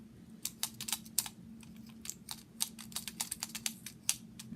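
A spring-loaded needle felting multi-tool stabs into wool in quick, irregular bursts of faint clicking taps, soft and close, with a low hum underneath.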